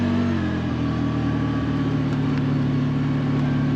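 A 2025 CF Moto Uforce 800 XL four-seat UTV engine drones steadily and loudly at a constant pitch while driving through soft, shallow snow, a sustained close-up hum with no talking.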